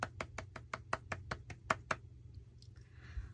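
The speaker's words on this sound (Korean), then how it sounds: "여러분, 우리 박수 한번 치고 갈까요?" Hands clapping about a dozen times in a quick, even rhythm, close and fairly faint in a quiet room, then stopping.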